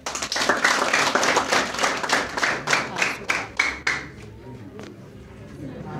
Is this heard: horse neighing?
no